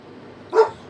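A single short dog bark or yip, close and fairly loud, rising out of quiet background noise near the end.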